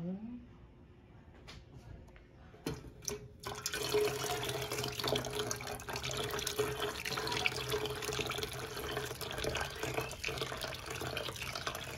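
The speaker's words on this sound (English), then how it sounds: "Now I'm about to add my liquids to my oils slowly." Liquids are poured slowly into melted oils and wax, including stearic, while making sea moss lotion, giving a continuous, fairly quiet splashing trickle after a few brief clinks at the start.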